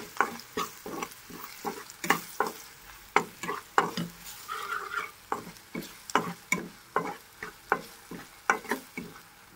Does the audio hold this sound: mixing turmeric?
yes